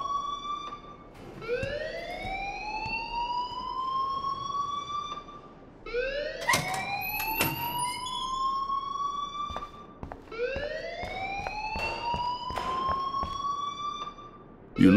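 An alarm wails in the video game Life Is Strange: three long rising electronic siren sweeps with strong harmonics, each climbing and holding, steady and loud with sharp clicks between them.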